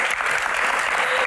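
A Q&A event audience breaks into loud, sustained clapping, a thick even wash of many hands that holds at full strength throughout, with no speech rising above it.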